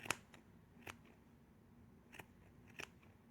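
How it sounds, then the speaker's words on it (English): Quiet, close scissor snips trimming yarn, about five sharp cuts at irregular intervals with silence between. "you just take your scissors and just like trim them up"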